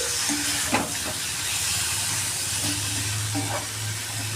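Crab frying in a pan on a medium flame for a Bengali kakra jhal, a steady close hiss of sizzling with a few faint clinks, no talk.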